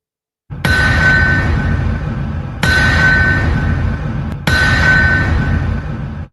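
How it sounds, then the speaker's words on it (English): Three loud, ringing metallic anvil strikes, evenly spaced about two seconds apart, each clang sustaining and decaying before the next hit. "That is the sound of the anvil, which means we are live."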